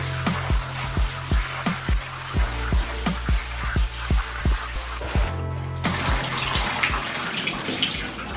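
Shoes being dyed are swirled through water in a tub, making a regular series of splashing sloshes about every half second that stop briefly near the end before a broader rush of water noise takes over, close and fairly loud with no talking.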